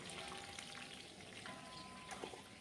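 Whole spices (bay leaf, cinnamon, clove, cardamom and a little mace) temper in hot oil in a kadai, a soft, even crackling sizzle that holds steady throughout without any voices.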